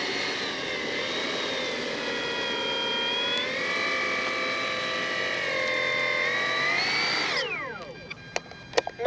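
Electric motor of an E-flite SNJ-5 Texan RC airplane whines steadily and loud at close range, its pitch holding for several seconds with small shifts before spooling down sharply near the end, followed by a few faint clicks.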